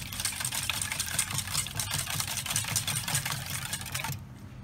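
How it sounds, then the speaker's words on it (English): Eggs whisked with full cream milk in a bowl: fast, close, continuous clicking and tapping of the whisk for about four seconds, then it stops. "we'll just give this a quick whisk."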